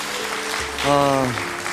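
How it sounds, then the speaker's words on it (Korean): Audience applause on a Korean television broadcast, a short burst that swells briefly under a host's voice and music. "박수 한번 보내주시죠. 박수 보내주십시오."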